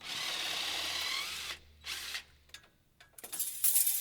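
A power tool with a small attachment loosens a metal band on a gate housing: a loud, sustained whirring run, then a pause, a shorter burst and scattered clicks and ratcheting rattles close by.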